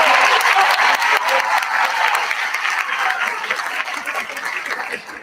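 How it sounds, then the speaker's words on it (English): An audience applauds Mr. Kimberly at a fine arts honors night, dense clapping from a sizable crowd that starts loud and gradually thins and fades over several seconds. "Can we get one more applause"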